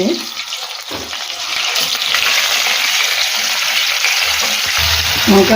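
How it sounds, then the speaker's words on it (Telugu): Brinjal curry ingredients hitting hot oil in a pan, bursting into a loud, dense hiss that swells after the first second and holds steady and close to the end. "ఇలా నూనెలో వేసుకోవాలి ఇవన్నీ"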